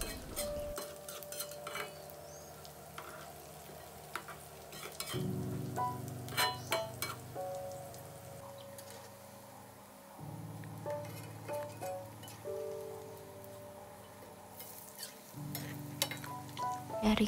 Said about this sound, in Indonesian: di situ udah aku panasin minyak, lalu kita langsung goreng aja